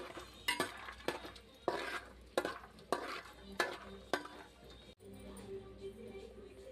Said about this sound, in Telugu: ఫస్ట్ అయితే పల్లీలు వేసుకుంటున్నా. పల్లీలు వేంపి తీసేస్తాను.